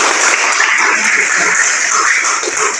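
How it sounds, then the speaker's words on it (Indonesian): Audience applause fills the room, dense and loud clapping sustained without a break, with a faint murmur of voices beneath it. "mari kita berikan aplaus"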